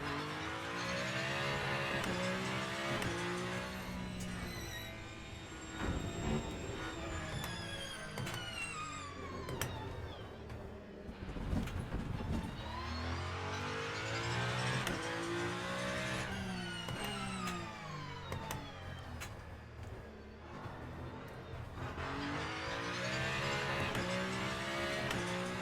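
Race car engine in the Le Mans Ultimate sim, revving up and down continuously with rising and falling pitch through gear changes and corners, loud and close with occasional thunks, no talking.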